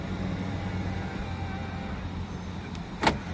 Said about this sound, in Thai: ล็อกประตูครับ